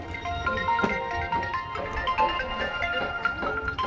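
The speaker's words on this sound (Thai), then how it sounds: "ผู้โทรมาอีกละ" A mobile phone ringtone plays a repeating melodic pattern of bright electronic tones, fairly quiet and steady throughout, with no talking over it.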